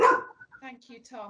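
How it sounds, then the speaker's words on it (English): Dogs at home bark with one short, sharp bark at the start, followed by someone speaking briefly. "Excuse my dogs."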